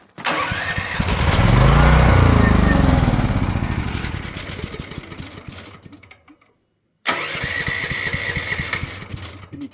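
Champion dual fuel generator engine cranking and sputtering on full choke, a loud close rhythmic putter that rises, fades and cuts out before a second attempt starts up, with a brief silent gap between.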